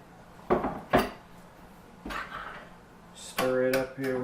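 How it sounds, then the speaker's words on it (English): Spaghetti squash scooped from a pot with a utensil into pasta sauce: a few sharp clinks and scrapes of metal against cookware, close and fairly loud, separated by short pauses, ending with a brief stretch of speech. "And then we're just gonna scoop that into the pasta sauce."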